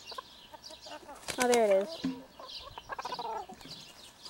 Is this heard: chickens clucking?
yes